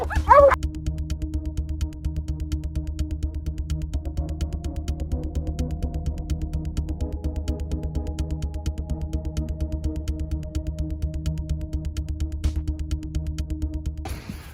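Hunting dogs used for hunting mountain lions bark, yip and whimper in a busy chorus over a steady low hum, the barking continuous and overlapping for the full stretch.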